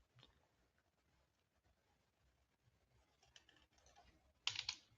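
Quiet, close keyboard typing at a computer during coding: scattered soft key taps that build into a denser burst of loud clicks near the end, with no speech.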